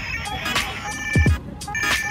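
Toy Barbie phone playing a tinny electronic song, a bright melodic ringtone-like tune with a few low thumps partway through, heard close up.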